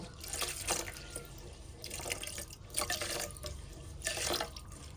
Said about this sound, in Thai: ใส่น้ำสำหรับหุง เราจะใส่น้ำให้เหมือนกับหุงข้าวปกติเลยนะคะ